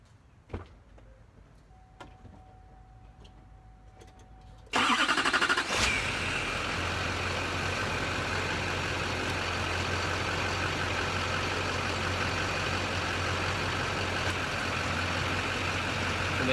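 A 2004 Chevrolet Silverado 2500HD with the 6.6L LB7 Duramax diesel sits quiet after a few small clicks, then cranks and catches abruptly and settles into a loud, steady idle.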